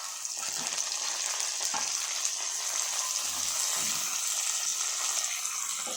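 Curry leaves and mint sizzle steadily in hot oil in a pan, a continuous close frying hiss with a few faint stirring knocks and no talking.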